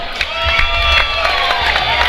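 Loud, continuous cheering and shouting from a crowd at a cage-side MMA event as referee Donnie Jessup is introduced, a dense roar with scattered claps and whoops.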